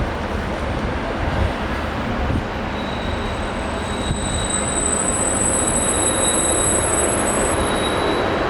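Freight train rolls past on a Saturday near Carlisle, a continuous loud rumble of wagons with high metallic wheel squeal ringing steadily through the passage, close to the listener, with faint voices in the background.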